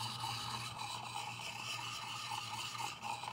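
A gouge chisel being sharpened, its curved bevel rubbed steadily against an abrasive with a continuous rasping scrape, close and moderately loud with no pauses or talk.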